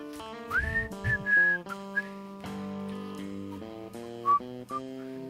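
A person whistles a short tune of bright, sliding pitched notes over steady game music, with a few rising glides and brief pauses between phrases.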